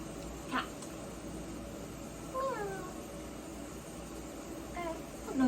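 A cat meows twice, clear drawn-out cries a couple of seconds apart, over a steady background hiss.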